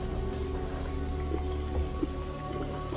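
Steady rain falls on a forest campsite, a dense constant patter with occasional louder drops close by, no talking.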